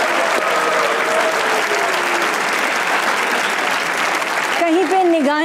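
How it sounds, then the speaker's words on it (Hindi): Studio audience of a comedy talk show giving sustained, loud applause that fills the whole stretch, with music or a voice rising briefly underneath near the end. "तालियां होनी चाहिए।"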